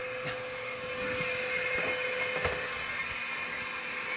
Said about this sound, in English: The vacuum is on and it's running.